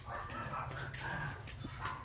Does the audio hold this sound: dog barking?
yes